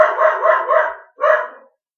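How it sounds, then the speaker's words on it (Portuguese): Small female dog barking indoors during a live stream: a quick run of three close, loud yaps, a short pause, then one more bark, with no talking. "A minha cachorrinha aqui, ela toda vez ela quer participar quando eu estou transmitindo ao vivo"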